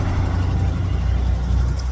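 A nearby car idles with a steady, loud low engine rumble and even throb, unchanging and with no other sounds over it.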